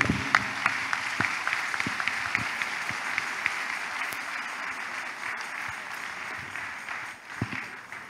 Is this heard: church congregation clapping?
yes